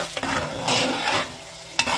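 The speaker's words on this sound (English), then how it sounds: "And then give it a good stir" Onions frying in oil are stirred with scrapes and swishes in a pan over a soft sizzle, close and alone, with a sharper scrape near the end.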